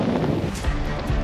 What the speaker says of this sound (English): it's raining quite hard and so windy.